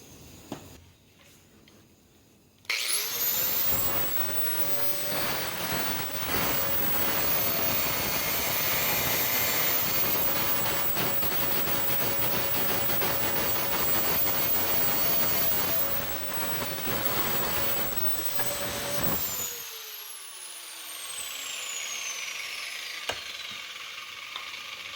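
A metal grinder works on a VW Beetle mid-engine V8 project, its whine spinning up abruptly and holding a loud, steady, high-pitched grind for about seventeen seconds before winding down.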